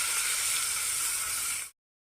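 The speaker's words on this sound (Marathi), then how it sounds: "आता ह्या तडका यावरती आपल्याला टाकून घ्यायचा" Hot tadka of oil with asafoetida and curry leaves poured onto spinach curry: a loud, steady hissing sizzle that stops abruptly after under two seconds, followed by silence.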